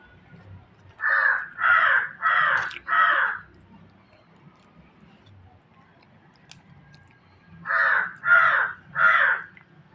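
Crows caw in two bursts, first four harsh calls in a quick row, then after a quiet gap three more, fairly close and loud over a low background murmur.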